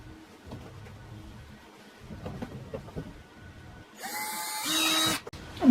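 A power drill whirs briefly after some handling clatter, boring holes in a plastic car grille part, its high buzzing grind rising near the end, close and fairly loud.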